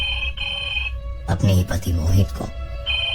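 A telephone rings in short repeated trills after a call placed from an intercom phone, loud and near, broken in the middle by a voice speaking.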